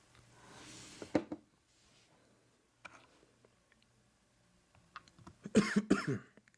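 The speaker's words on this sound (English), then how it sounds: "I don't know where this coughing fit's coming from all of a sudden" A sudden coughing fit from one person indoors, a couple of harsh coughs early, scattered small throat sounds, then a louder burst of several rapid coughs near the end, with no talking.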